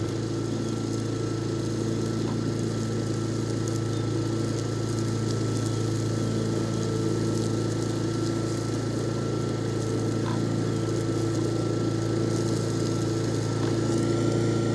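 A cheap remote-controlled tracked lawn mower runs outdoors, its motor giving a steady, continuous drone that holds at an even level throughout with no talking.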